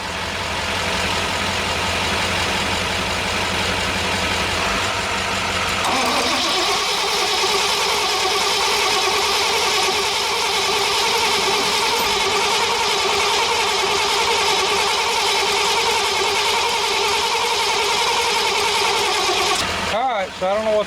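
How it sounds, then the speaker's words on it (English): A 1993 Chevrolet 3500 truck engine, one that had been locking up and squealing badly, cranks for several seconds, catches and settles into a loud, steady running drone, then cuts off abruptly near the end. "The engine started locking up and it started squealing pretty bad while it was turning."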